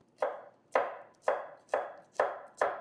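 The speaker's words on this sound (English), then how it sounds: "The fastest way to mince, just roughly slice them first." Knife mincing roughly sliced vegetables on a cutting board for Italian escarole and bean soup, six crisp, evenly spaced chops, close and clear with nothing else heard.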